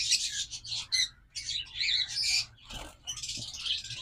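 A pair of olive Fischer's lovebirds chirps in quick, high, squeaky bursts at close range, with brief gaps between calls and a soft low background hum.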